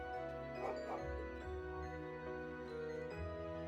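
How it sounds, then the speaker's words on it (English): Small dog barking in the video game Trails into Reverie, a few yips and woofs over steady game background music. "Woof, woof."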